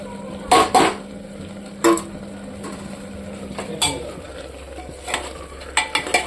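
A spoon stirs and scrapes in a pan of spices frying with a little dried chilli powder, giving a few sharp, close metallic clinks and knocks at irregular intervals over a faint, steady background hiss, with no voices.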